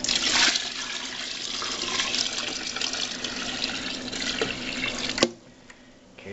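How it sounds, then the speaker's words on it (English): Steady rush of water pouring into a bucket for peach wine, continuous for about five seconds, then cutting off abruptly into quieter background. "fill the bucket up to where we need it. Probably do it right there. Go ahead and pour this in here."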